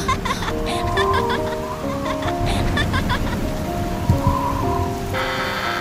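Heavy rain in a Vietnamese fairy-tale cartoon pours steadily throughout, a dense close hiss of falling water with soft musical tones and a brief voice-like sound mixed in.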